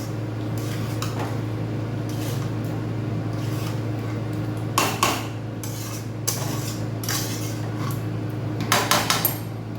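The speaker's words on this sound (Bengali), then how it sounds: "টক দই দিয়ে আরও কিছুক্ষণ কষে নেব" Spices and sour curd being stirred and sautéed in a pot, with intermittent metallic scraping and clinks of a spoon against the pot over a steady background hum, close and moderate in volume, with no talk.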